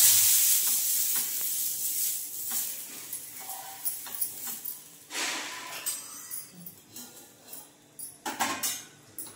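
Onions frying in a pan for curry, a loud hiss at first that settles into a gentler sizzle, with scattered stirring scrapes and clinks growing more frequent toward the end, close up, no speech.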